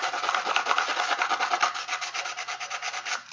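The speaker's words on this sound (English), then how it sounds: "sand the tin can all over, and that makes it accept paint a lot better" A tin can rubbed all over with general purpose sandpaper: a continuous rhythmic scratchy rasp of quick back-and-forth strokes, close and steady for a few seconds with no talk.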